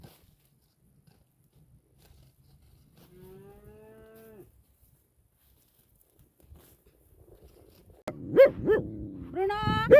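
A cow in a farm shed, about to get an injection from a vet, moos once, fairly soft, then later several louder, closer moos with clattering and rustling around them.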